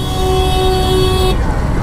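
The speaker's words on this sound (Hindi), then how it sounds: "हॉर्न बजाने से गाड़ी आगे नहीं खिसकेगी" A car horn in city traffic gives one long, steady honk that stops abruptly, heard close over a rumbling background of engines and road noise.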